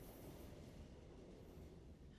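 Trains moving near a subway station make a loud, continuous rumbling roar with a faint high squeal, steady throughout and with no voices.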